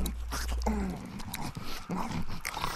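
Dogs growl and whimper in The Walking Dead video game (400 Days episode), a close, rumbling snarl over a low drone with brief game sounds around it.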